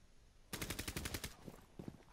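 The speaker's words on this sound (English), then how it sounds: "Oh crap! I shot him by accident." Automatic gunfire in a video game, a rapid burst of about a dozen shots, followed by a few scattered shots, sharp and fairly close but low in level.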